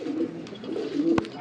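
A Jan Aarden racing pigeon coos softly in a brief low murmur, close by, with a sharp click or tap near the end.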